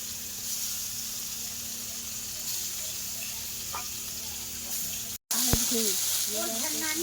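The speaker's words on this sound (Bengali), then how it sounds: "মাছ ভাজা কমপ্লিট।" Fish fries in a hot pan with a steady close sizzle and hiss, which breaks briefly before a voice begins talking over the frying.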